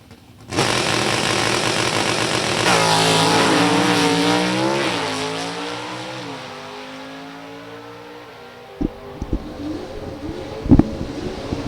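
Drag race cars launch down the strip at a drag racing sportsnationals event with a loud, roaring engine whose pitch sweeps upward through gear changes, then fades into the distance, followed by a few sharp knocks.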